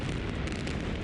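Explosives demolish two six-story 1940s buildings, producing a massive, continuous roaring rumble that fills everything with dense, unbroken noise at close range.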